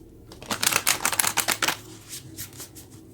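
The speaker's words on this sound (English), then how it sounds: "I just wanted to give them a quick shuffle." A deck of tarot cards gets a quick riffle shuffle, a dense run of crisp flicking clicks followed by a few softer slaps, close and quiet.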